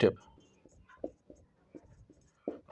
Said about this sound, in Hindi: चलिए हम यहाँ पे स्टेप वाइज लिख देते हैं।